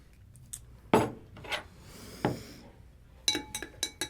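Metal spoon knocking and clinking against a drinking glass while a drink is stirred, a handful of sharp, close taps scattered over a few seconds, ending in a quicker cluster of clinks.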